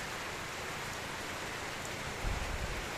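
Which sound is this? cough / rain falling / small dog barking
rain falling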